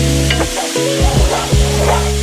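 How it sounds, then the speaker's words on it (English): Vegetables sizzle loudly in a hot pan for a one-pan chicken and rice dish while a utensil stirs them, with a steady frying hiss broken by scraping strokes up close. "So just want to give it a nice stir just to lock in all of that flavor"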